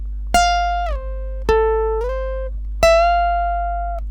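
Electric guitar picking the solo of a Thai song, three clearly separated plucked notes, each bent upward and left to ring out, played slowly and up close over a steady low hum, no voices.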